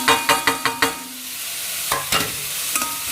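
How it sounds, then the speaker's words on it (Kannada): Vegetables tossed into hot oil with chopped onion in a frying pan, then stirred: several sharp scraping clanks of a spoon in quick rhythm, a pause, then more stirring strokes over a low steady sizzle, close and clear. "ಇವಾಗ ತರಕಾರಿ ಆ್ಯಡ್ ಮಾಡಿಬಿಡ್ತೀನಿ."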